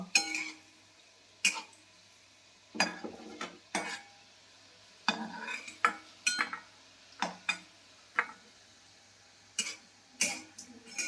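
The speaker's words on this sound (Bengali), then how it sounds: "হালকা করে করে ভেজে নিতে হবে।" Round paneer pieces lightly frying in a pan while a spatula stirs and taps, giving irregular clinks and scrapes over a soft sizzle with no talking.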